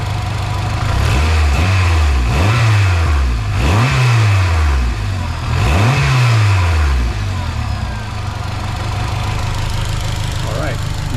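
A 2003-2011 Honda Element engine revs repeatedly after upgraded motor mount installation, five rising-and-falling blips in quick succession before settling to a steady idle, loud and close.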